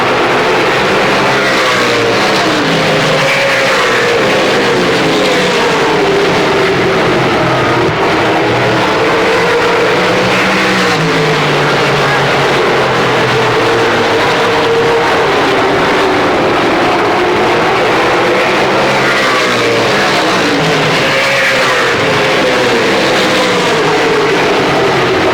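Race cars roar continuously around the oval at Motordrome Speedway, a loud, dense wall of engine noise with rising and falling pitch as cars pass and jostle for position, no voices audible.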